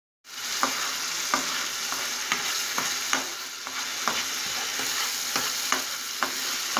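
Constant close sizzling from a pan, with regular scraping taps of a utensil stirring bubbling tomato sauce as it stews down.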